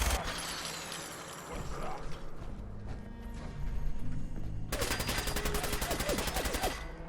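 Fallout 4 gunfire with heavy weapons against super mutants: dense, loud bursts of rapid shots, first ragged and mixed with clatter, then a sustained fast machine-gun stream in the final seconds.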